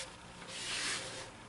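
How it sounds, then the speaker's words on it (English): Sandpaper is held against a big piece of maple spinning on a wood lathe, a continuous close rasping hiss that swells briefly in the middle before easing back. "this thing is sanding up better than I thought it was going to"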